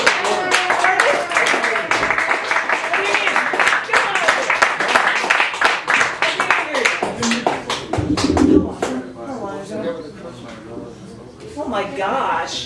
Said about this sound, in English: give him the most applause ever